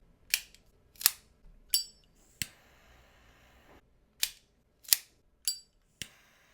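Cigars being cut and lit give seven or eight sharp, separate snaps and clicks spaced about a second apart, each crisp and close with quiet gaps between them.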